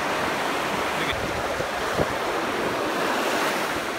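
Ocean surf washes continuously onto a beach, a broad roaring rush of breaking waves mixed with gusty wind buffeting the microphone.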